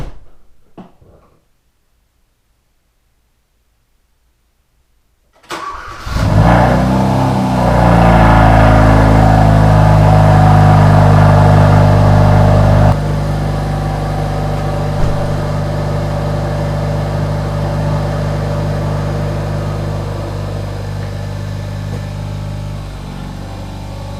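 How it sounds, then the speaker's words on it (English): A Hyundai Veloster engine in a garage cranks after quiet and catches, then settles into a loud, steady idle that sits close and drops slightly in level partway through, with no voices. "Now that it's sat overnight and charged, I'm going to see if it'll start and get pulled out of the garage."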